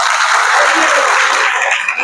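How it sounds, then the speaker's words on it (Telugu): Audience applause at a Constitution Day public meeting in Visakhapatnam, a dense steady burst of many hands clapping close by for about two seconds, tapering slightly at the end. "వీళ్ళకి చప్పట్లు కొట్టండి ఒకసారి"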